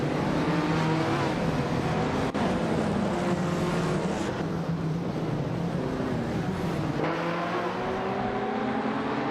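Race cars in a racing video game launch off the start line, engines roaring and revving loudly with rising and shifting pitch as they accelerate away, with no talk.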